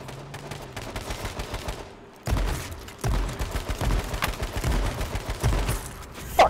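Shotgun and other gunfire in the H1Z1 battle royale game, a series of sharp, loud blasts after a brief lull, repeating irregularly against a busy game background.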